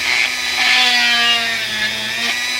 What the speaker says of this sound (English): So we're going to tap this in here and drill in like this